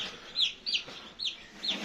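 Chickens clucking nearby in a few short, rhythmic bursts of calls, with no talk over them.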